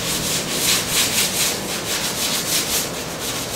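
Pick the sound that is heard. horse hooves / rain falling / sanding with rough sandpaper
sanding with rough sandpaper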